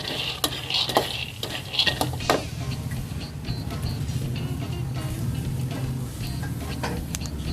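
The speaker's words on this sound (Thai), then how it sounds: "ตั้งกระทะให้ร้อนแล้วก็คั่วไปเรื่อยๆค่ะ" Peanuts rattle and scrape in a hot pan on a gas stove as they're dry-roasted and stirred, with a few sharp clicks early on over a steady low hum.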